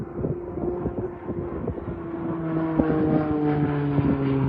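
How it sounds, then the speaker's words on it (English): A traditional propeller-style airplane passes overhead outdoors, giving a steady droning hum that grows slightly louder over several seconds and carries buzzing engine harmonics and light wind rumble. "Is it a jet? What is it? I know it's a traditional plane."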